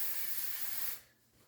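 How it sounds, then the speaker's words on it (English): A spray mister hose wets planting trays with water in one steady, close hiss that cuts off after about a second. "spray misting"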